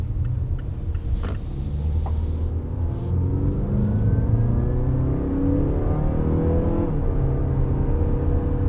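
2022 Mazda CX-5 engine accelerating from inside the cabin, a steady mid-pitched drone rising through the gears with engine rumble and road noise and no talking.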